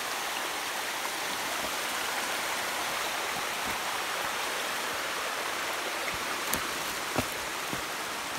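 A mountain stream flows steadily in a rocky gully, giving a continuous close rushing wash of water with a few faint taps and splashes toward the end.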